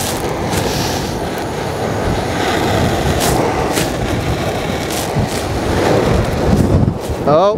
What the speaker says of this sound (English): Oh, bit windy.